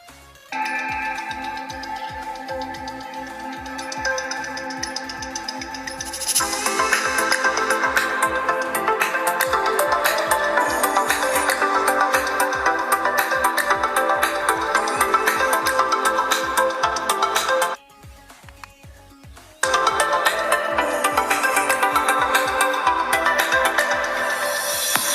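A Bluetooth speaker placed underground plays a bright electronic melody with a steady beat, loud and continuous, cutting out briefly for a couple of seconds before resuming.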